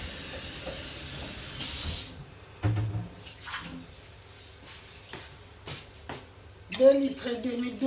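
Water poured from a height into a cooking pot for fish soup with vegetables, a hissing splash in bursts with clatters between, while a person talks over it.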